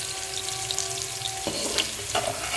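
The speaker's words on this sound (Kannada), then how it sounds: "ಮೀಡಿಯಮ್ ಈರುಳ್ಳಿ ಈ ರೀತಿ ಕಟ್ ಮಾಡಿಕೊಂಡು ಸಣ್ಣದಾಗಿ ಅದೇ ಎಣ್ಣೆಗೆ ಹಾಕ್ಕೊಂಡಿದ್ದೀನಿ" A finely chopped medium onion sizzles steadily in oil already used for frying vegetables, a close, continuous crackle with brief stirring scrapes and no voices.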